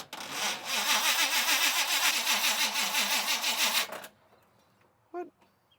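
A Kawasaki K10 engine with gas poured down the carburetor is cranked, giving about four seconds of loud, close, rhythmic churning before cutting off, followed by a brief clank and quiet.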